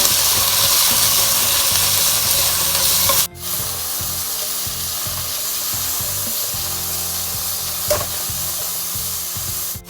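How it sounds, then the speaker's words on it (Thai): Minced pork being stir-fried in a hot pan, a steady close sizzle with scraping and stirring strokes, briefly pausing partway through. "ผัดทุกอย่างให้เข้ากันค่ะ"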